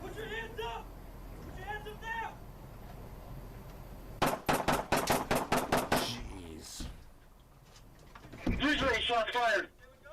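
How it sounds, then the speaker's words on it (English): Gunfire on police bodycam footage, a rapid burst of about eight sharp shots in quick succession, with shouting voices before and after. "Shots fired."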